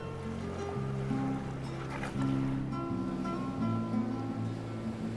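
Sea water washes against the end of a stone causeway where the Mediterranean meets the Atlantic, a steady surging wash with low droning tones running beneath it throughout.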